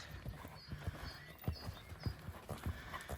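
A show horse cantering in a hired arena, hooves thudding in an even three-beat rhythm at moderate distance, with faint background noise.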